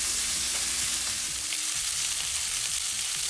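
Steaks pan-searing after being flipped, with a pat of butter melting on top; a steady, dense sizzle and crackle fills the clip without pause, close and fairly loud, with no voices.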